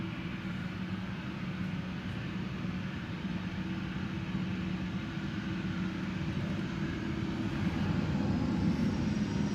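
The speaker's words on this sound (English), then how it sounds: "This is KLM flight 9891, 737-700." KLM Boeing 737-700 jet taking off at Schiphol, bound for Aarhus: a fairly faint, steady low engine rumble with a droning hum, swelling slightly toward the end, heard alone.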